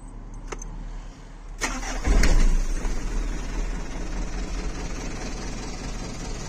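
A 3-ton, 14-foot truck engine cranks with a few clicks, catches with a loud low rumble and settles into a steady idle, close to the microphone with no talking.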